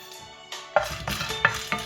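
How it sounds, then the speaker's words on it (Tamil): Cardamom pods roast in a dry pan, a brief run of light rattling and scraping taps as they are stirred close up, with no speech. "தேவையான ஏலக்காயை வறுக்க போகிறோம்"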